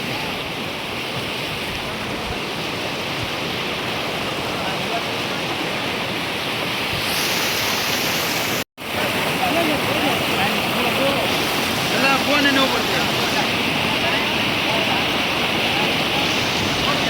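Rushing flood water rising through a village during heavy rain makes a loud, continuous roar with a brief dropout midway, and faint voices occasionally surface beneath it.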